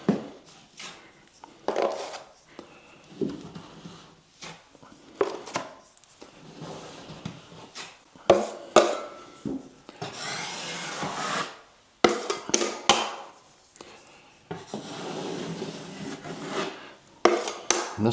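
A drywall knife scraping hot mud down a deep joint to flatten it, repeated rough rasping strokes of varying length with short pauses between, close and moderately quiet.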